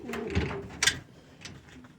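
A show pigeon coos in a loft, with a couple of short, close, low throaty calls and a brief rustle or clatter among the birds.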